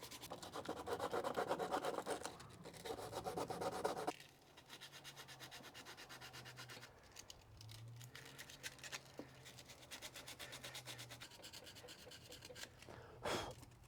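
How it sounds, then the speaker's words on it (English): Sandpaper rubbed against a car battery terminal to take it down to bare metal, giving a close, steady scratchy rasp, heaviest in the first few seconds, then lighter back-and-forth strokes. "just grab a piece of sandpaper and get it down to bare metal"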